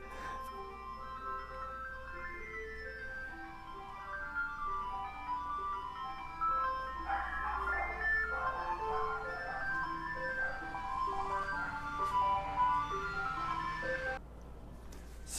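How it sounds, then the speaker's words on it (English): A roving ice cream truck in Florida in December plays its tinkling electronic jingle melody continuously, moderately loud under a low engine hum, until the tune cuts off near the end. "ice cream truck drives around in December"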